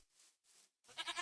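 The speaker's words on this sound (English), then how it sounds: "There's our goat." A Minecraft goat bleats three times in a short sequence, the first two calls soft and breathy and the last one louder, sharper and more nasal, with no talking over it.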